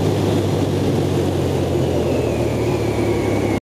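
A BMW R18 First Edition motorcycle with its big boxer engine held at a steady loud rev, a dense continuous roar close by that cuts off abruptly at the end.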